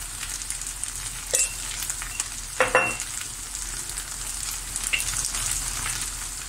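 Tomato paste, mint, thyme and pepper flakes roasting in a hot pan for stuffed grape leaves, a steady close sizzle with a few sharper crackles and a brief stirring scrape.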